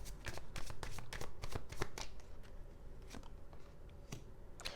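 Tarot cards being shuffled for a reading, a steady run of crisp riffling and flicking card sounds close up, with no voice over them.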